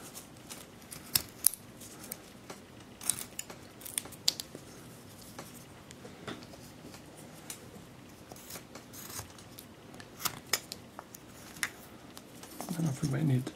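Chisel carving a wooden snowman, giving faint, scattered scraping and clicking cuts up close, with a rustle of handling at the end.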